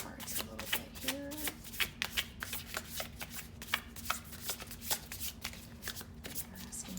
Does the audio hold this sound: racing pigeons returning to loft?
no